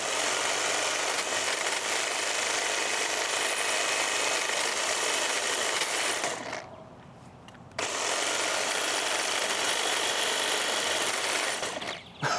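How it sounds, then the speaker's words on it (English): A Milwaukee power saw cuts through material with a loud, continuous buzzing whine, dropping out briefly partway through before resuming its steady cut. "Oh, the Milwaukee will cut through that."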